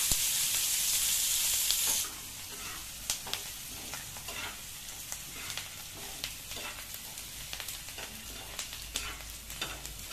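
Onions fry in a pan for a besan jhunka, with a steady low sizzle. Frequent small scraping clicks of a spoon stirring come through, there is a brighter burst at the start, and there is no talk.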